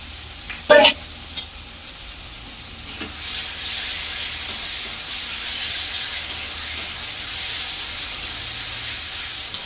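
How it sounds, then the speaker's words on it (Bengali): Spice masala of cumin, coriander and ginger being sautéed in a pan, a steady sizzling hiss that swells after a few sharp clinks of a spoon against the pan early on. "সেইটাকেও আমি এবার ভালো করে কষাবো।"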